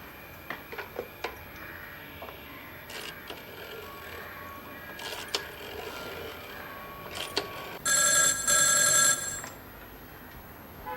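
A telephone rings once in a loud, bright trill after a stretch of quiet ticking and faint clicks.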